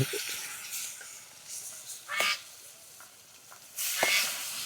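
Hot oil spits and crackles while pangas fish fries, heard as a soft steady sizzle broken by a few louder sharp bursts of splattering, with no one talking.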